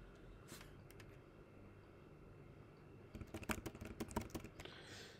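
Computer keyboard typing comes in a quiet room, with a few scattered key clicks at first and then a fast, dense burst of clicking near the end over a faint hum.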